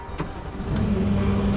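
A skid steer loader's engine starts up, settling after a short moment into a steady, loud low rumble that continues without any talk.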